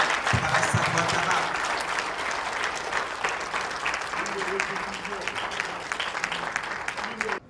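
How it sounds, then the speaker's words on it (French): An audience at a documentary film presentation claps loudly and steadily for several seconds, with voices talking over the applause. "On va applaudir pour cet homme."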